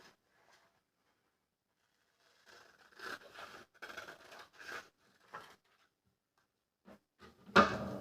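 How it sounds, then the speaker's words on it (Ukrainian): Quiet snips and scraping strokes of scissors cutting through paper, a few short bursts with pauses, ending in a louder rustle. "Потім зайве підрізаємо ножицями."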